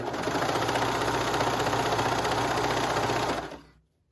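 Coverstitch machine running a hem on a circle skirt, a close, loud, rapid whirring hum held steadily for over three seconds before winding down to silence.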